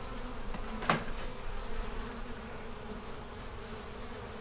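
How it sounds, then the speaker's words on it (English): Honey bees buzzing at the top of an open hive, a dense continuous drone close to the microphone with one brief louder burst early on, and no talking. "And all these bees have come to the top."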